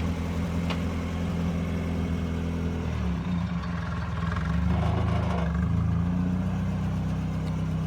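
A Mazda Miata engine runs steadily during a manual-transmission driving lesson, a low continuous hum that shifts pitch midway as the car is worked through its paces, close and unbroken.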